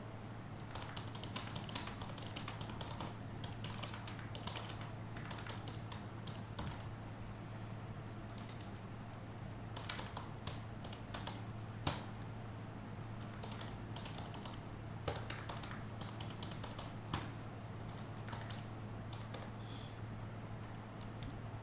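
Steady, fairly quiet typing on a computer keyboard while a message is written, with a continuous patter of close key taps and a few louder strokes over a low background hum, with no speech.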